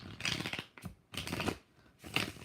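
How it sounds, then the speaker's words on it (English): Tarot cards being shuffled by hand in three quick riffling bursts separated by short pauses, close and fairly quiet with no talking. "2 more shuffles."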